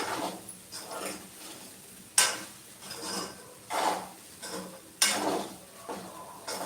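Sabudana khichdi being stirred in a pan over a low gas flame, with a spoon scraping and clinking against the metal in repeated strokes, a few sharper knocks standing out, and a soft background sizzle.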